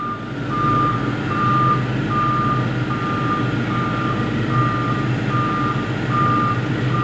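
A six-cylinder Cummins diesel engine in a Sunward wheeled excavator idles with a steady deep rumble, while a reversing alarm beeps at a regular pace over it.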